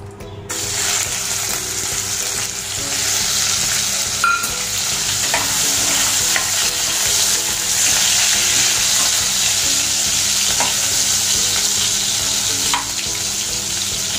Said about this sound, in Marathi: आता आपण पनीर आहे ते परतून घेऊया